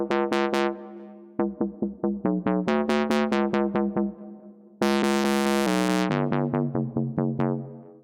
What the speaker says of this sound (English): Let's move on to the build-up bass sound, and it sounds like this.